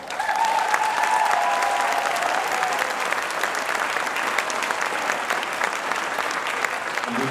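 A concert audience at a high school fall choir concert applauds as the treble choir files on: a loud, dense wash of clapping that starts abruptly and stays steady, with a brief faint voice or whistle-like tone early on.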